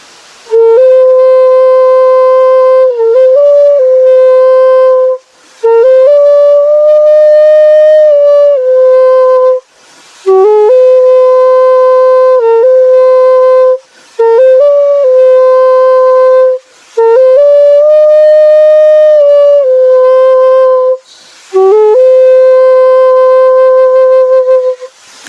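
A bamboo flute plays the Karthikeya 2 song tune in long sustained phrases, separated by short breath pauses, with slight pitch bends between notes; loud and close, with no talking.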